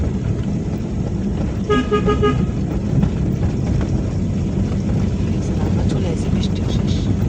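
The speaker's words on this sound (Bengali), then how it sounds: "হরন বাজাও।" A car horn gives a short double toot during a driving lesson, sounding over steady engine and road noise inside the car, with an instructor's voice talking around it.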